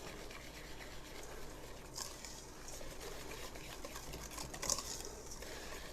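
Breadcrumbs are mixed into a meatloaf mixture with ketchup, giving a soft, close, continuous squishing and rubbing with a couple of brief sharper scrapes.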